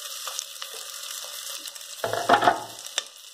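Sliced onions dropped into a hot pan for veg pulao, a quiet hiss that swells into a louder crackling sizzle partway through, with a few light clicks, close up and no talk.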